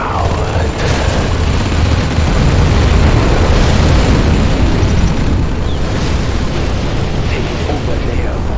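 A nuclear missile launch and detonation in Command & Conquer Generals Zero Hour roars as a loud, continuous rumbling blast that fills the whole stretch, with crackling bursts layered on top and in-game voices sounding through it.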